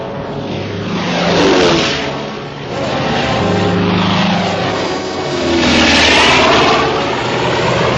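Military aircraft engines roar at the Moresby airstrip in World War II New Guinea as paratroopers load up, a loud, steady propeller drone that swells and fades in waves, heavily filtered like an old recording.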